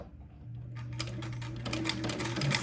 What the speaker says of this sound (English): and sew my last buttonhole